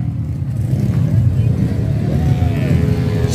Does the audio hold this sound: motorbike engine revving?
yes